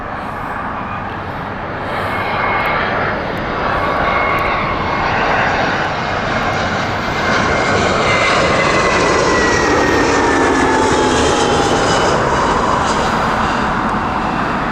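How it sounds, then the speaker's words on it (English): British Airways Airbus A320 at Heathrow, loud and close, its engine roar rising and thickening with falling whine tones as it passes, sustained throughout. "the Leon flight with British Airways Airbus A320"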